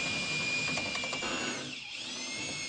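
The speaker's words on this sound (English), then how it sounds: "Walk the drill up to the cross brace, pushing the shaft to force the bit flat against the wall before you start drilling." A power drill bores through a wall while cable is being run, giving a steady, close, high-pitched motor whine that sags briefly in pitch as the bit loads up, then recovers. No one speaks.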